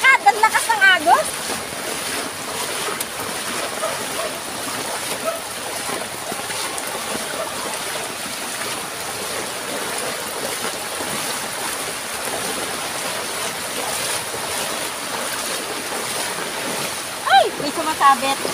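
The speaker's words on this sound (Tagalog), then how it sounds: "Ang lakas ng agos." Strong flood water current rushes steadily through a flooded area, heard as a continuous loud watery roar close by. People talk over the water at times.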